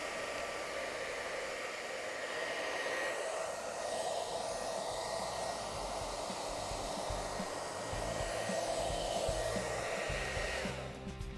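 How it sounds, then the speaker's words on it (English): A hair dryer heats a rubber refrigerator freezer door gasket with a steady, loud whooshing roar that continues unbroken before cutting off abruptly at the end. "take the hair dryer and lightly heat this area up"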